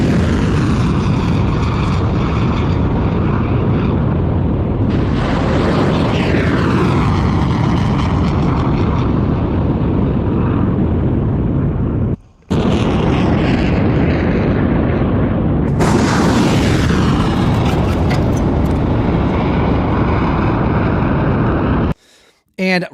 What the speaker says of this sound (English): So this is the missile strikes.